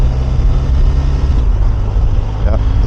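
A BMW R 1250 RS motorcycle fitted with a BrenTune module rides at steady throttle around 4000 rpm and shifts into second gear. A loud engine rumble mixes with wind noise in a short burst of riding.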